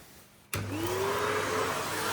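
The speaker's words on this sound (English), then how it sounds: "now we're going in for the 10 minutes vacuuming" A household vacuum cleaner switches on abruptly and keeps running with a steady, loud whine and a rising motor pitch as it spins up, heard alone in a home during speed cleaning.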